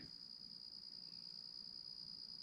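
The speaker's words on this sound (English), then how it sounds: "The crickets." Steady, continuous cricket chirring fills the background on a forest trail, a high sustained trill with no voices, soft and unbroken throughout.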